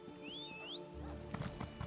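A horse in the video game Elder Scrolls Online neighs with a rising whinny, then its hooves clip-clop in a quick, close, rhythmic run of hoofbeats.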